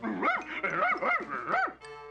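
Cartoon dog lets out a run of four quick, close, yappy barks with a whining rise and fall, followed by a brief tonal note at the end.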